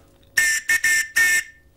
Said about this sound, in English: Sometimes on life jackets you have a whistle that you can blow